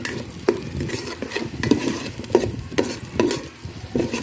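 Onion and garlic sautéing in a hot pan: a steady close sizzle with repeated scraping strokes of a utensil against the pan, roughly every half second, with no voices.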